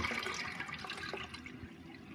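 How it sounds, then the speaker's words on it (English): A TECE concealed toilet cistern flushing, a steady rushing wash of water with gurgling, fairly quiet and close, fading slightly toward the end. "So we've got half flush with full flush."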